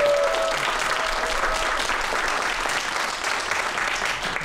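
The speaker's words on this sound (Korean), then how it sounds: "큰 박수로 환영해 주세요." Loud, sustained applause from an audience welcoming a magician onstage, a thick wash of clapping that holds steady throughout.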